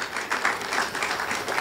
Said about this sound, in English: Could we give NEMA and all the participating institutions a round of applause?